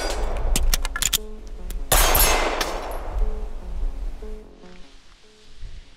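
Gunfire from a PSA Dagger full-size pistol during a timed shooting drill: several sharp, close shots in fairly quick succession, one especially loud blast with a ringing metallic decay, heard over steady outdoor background noise.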